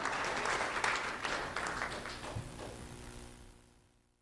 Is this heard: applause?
yes